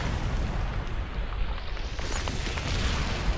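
A grenade blast in the online shooter Ghost Recon Online, a broad rumbling boom that swells after two seconds and fills the short stretch alone.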